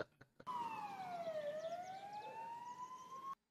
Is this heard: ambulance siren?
yes